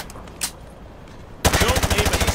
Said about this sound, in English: Just fire from the hip.